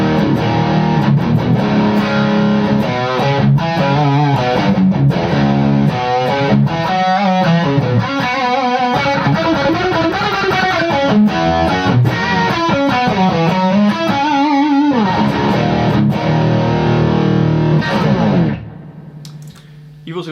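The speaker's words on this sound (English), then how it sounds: "it can handle, of course, the big disgusting gain tones that you've just heard" High-gain electric guitar played through a distorted amp channel, thick and saturated, with chugging riffs and sustained chords filling most of the stretch before cutting off into quiet near the end.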